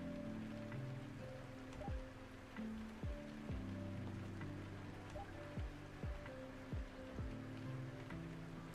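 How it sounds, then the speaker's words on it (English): Rain in the Euro Truck Simulator 2 driving game, enhanced by a rain mod, patters steadily on the truck over a low, droning engine hum, with soft drops landing throughout. "I love this rain."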